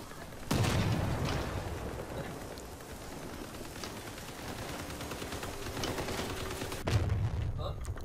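Heavy gunfire and booming weapon blasts roll through a Crossout clan-war vehicle battle, with two loud impacts standing out over a continuous rumble of shooting, while players talk over it.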